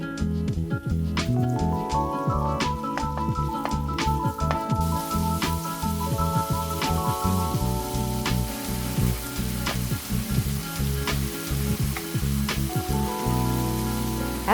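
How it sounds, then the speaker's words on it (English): Beef stir-frying in hot oil in a skillet over medium-high heat, a steady loud sizzle broken by frequent scraping and clacking of the utensil as the meat is tossed, with no talking. "Heat the oil in a skillet over medium-high heat. Stir-fry the beef for 2 to 3 minutes."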